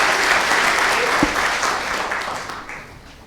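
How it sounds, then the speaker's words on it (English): Warm applause from a theatre audience greeting a speaker at a talk, thick and continuous throughout and slowly tapering in volume toward the end. "a big warm applause for Tariq"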